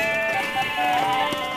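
A cartoon goat gives a single loud, close, wavering bleat that lasts just over a second, alone with no talk.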